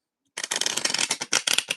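Stiff new tarot cards being shuffled by hand, a burst of crisp rapid riffling and slapping that starts after a short silence and runs steadily, close and fairly loud, with no talking.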